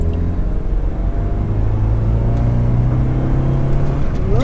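A Volvo 740 engine revs hard and loud close by while drifting on snow, a steady droning roar that climbs in pitch with a brief surge near the end.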